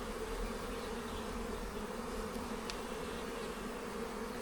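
A strong honey bee colony hums with a constant, even buzz as the hive is inspected, the drone close and sustained, with no talking.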